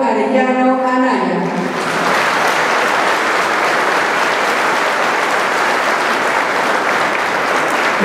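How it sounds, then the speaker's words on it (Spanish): A large audience bursts into loud, sustained applause welcoming the municipal president of Tlaltenango at a first annual government report ceremony, the clapping swelling after a brief voice at the start and holding steady throughout. "Recibimos con un fuerte aplauso al presidente municipal de Tlaltenango"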